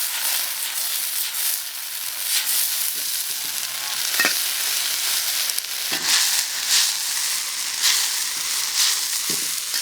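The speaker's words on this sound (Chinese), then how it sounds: "这辣椒炒一下才香啊！" Dried chilies and Sichuan peppercorns stir-fry with pork intestines in a hot wok, a loud steady sizzle broken by scraping stirs and occasional clanks of the spatula, with no talking.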